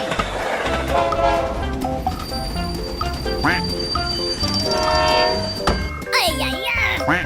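An animated train passes a railroad crossing with rumbling rail noise, horn-like tones and clattering, loud and continuous, while someone talks excitedly over it.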